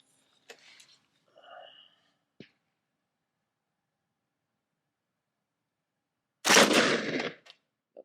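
A suppressed 8.6 Blackout rifle on a gas-operated carbine fires one loud, sharp shot near the end, after a long quiet stretch. A few faint clicks and handling noises come earlier.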